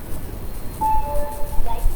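The Nagarsol Express pulls out of Secunderabad, heard from on board as a low, steady rumble with thin, high metallic squeals drawn out over it.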